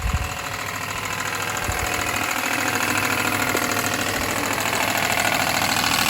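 A Maruyama MS515 spray pump engine runs steadily close by, a constant buzzing drone with a knocking rhythm and no talk over it.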